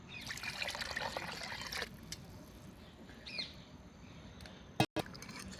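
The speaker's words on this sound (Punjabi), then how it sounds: "ਆਪਾਂ ਜੀ ਥੋੜਾ ਜਿਹਾ ਪਾਣੀ ਜੀ ਹੋਰ ਪਾ ਰਹੇ ਹਾਂ" Water trickles and splashes into a pan of soya chunk curry, a steady close pour for a couple of seconds that fades out, followed by quieter stillness and a sharp clunk near the end.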